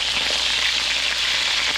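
Pork steaks frying in a hot pan give a loud, steady, unbroken sizzle and crackle throughout, with no voices.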